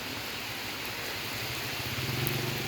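Steady rain falling outdoors by a stream bridge, a dense even hiss of drops with a faint low rumble, constant and fairly quiet throughout.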